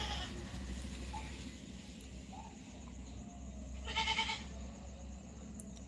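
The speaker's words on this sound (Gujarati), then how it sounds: "બકરીઓ રાયડું પાડે છે" Goats on a family farm, with a clear bleat near the middle over a low steady rumble and faint background sounds.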